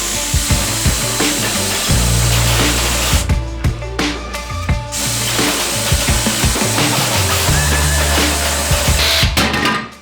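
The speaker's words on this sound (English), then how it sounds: "Then I went back to our old friend Jigsaw." A jigsaw cuts through thick boards clamped together for a budget fold-away Murphy bed, giving a loud, continuous buzzing rasp that runs almost the whole time with brief changes in pitch as the blade works through the wood.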